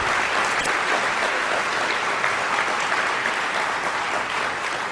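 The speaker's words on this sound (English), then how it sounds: "I'd like to just do one more round of applause for all the speakers, Tara Pleewell, John Haynes, John Davis, Rom" Steady, dense applause from a large audience after speakers at an award session, loud and sustained throughout with no pauses.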